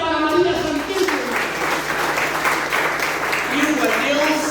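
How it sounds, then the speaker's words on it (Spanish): Church congregation applauding for María Santísima, a sustained wash of clapping from a crowd indoors with a voice speaking over it. "Un aplauso fuerte para María Santísima."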